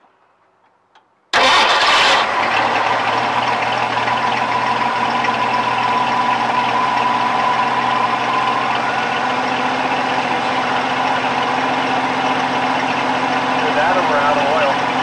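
An engine cranks briefly and catches with a loud burst, then settles into a steady, close idle that continues to the end.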